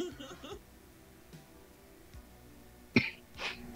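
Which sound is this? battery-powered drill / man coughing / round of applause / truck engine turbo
man coughing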